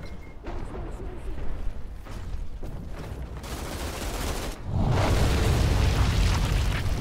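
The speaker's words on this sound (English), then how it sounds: "the explosion killed him" Dense gunfire and blasts crackle throughout a firefight in the shooter video game Outriders. A deep, roaring explosion swells at the end and holds loud and close.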